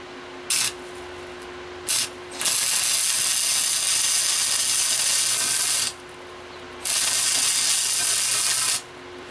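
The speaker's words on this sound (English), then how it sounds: "next step is just to take this and weld it onto there" An axle is welded onto a motorized drift trike frame, with a loud steady hiss in two long stretches, preceded by a couple of short bursts.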